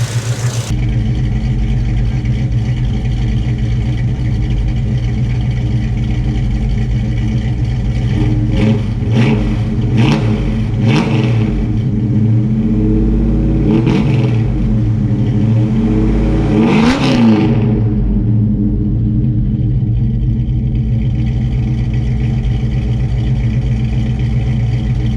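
A 1968 Dodge Dart engine runs after an Aces EFI fuel injection install, idling steadily and loudly with a few revs rising and falling midway, no talk.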